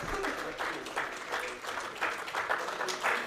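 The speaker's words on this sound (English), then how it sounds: "A big round of applause, please." Audience at an educational institute's program launch in Mumbai applauds a guest speaker, giving moderate, continuous clapping that swells in uneven bursts, with faint voices underneath.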